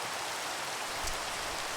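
Steady rainstorm in a survival crafting video game, a dense even hiss of falling rain with no breaks, moderately quiet throughout.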